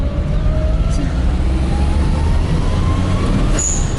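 Steady, loud engine rumble of a turbocharged 660cc Perodua Kancil L900 running close by, a continuous low drone with faint whining tones on top and no breaks.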